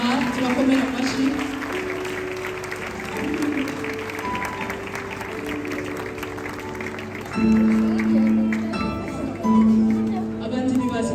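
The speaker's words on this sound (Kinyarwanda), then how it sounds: "Tubakomere amashyi ababebe bacu bari gutaha, tubakomere amashyi" An audience at a children's Christmas celebration in a church applauds the children, with sustained clapping mixed under a speaking voice and tonal music, swelling louder in a couple of later surges.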